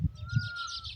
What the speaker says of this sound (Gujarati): મસ્ત મજાના જો ભાઈ પશુ પક્ષી છે ને કિલોલ કરે છે